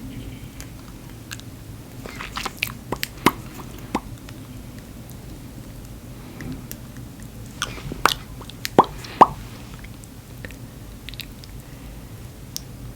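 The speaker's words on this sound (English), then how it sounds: "I'm going to be taking the MAC lipstick in the shade Blankety." A MAC lipstick is handled and applied close up in a quiet room, with soft clicks, small sticky smacks and scattered sharp taps over a low hum.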